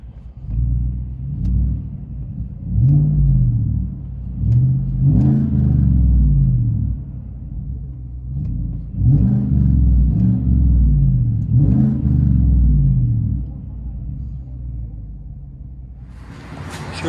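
Deep, rumbling drone from the aftermarket exhaust of a Chevy Silverado 5.3L V8, heard from inside the cab, with repeated swells as the engine is revved, then settling to a lower idle.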